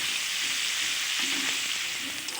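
Bitter gourd slices frying in hot oil with a little salt and turmeric give a steady, close, bright sizzle that runs throughout, with faint stirring knocks and no talking.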